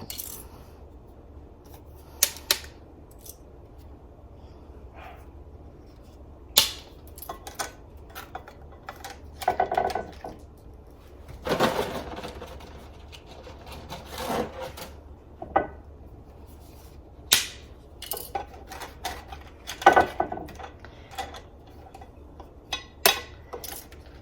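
Dry lasagna noodles snapped by hand to fit a loaf pan in a home kitchen: scattered sharp, crisp cracks and clicks at irregular intervals, close and fairly loud over a quiet background.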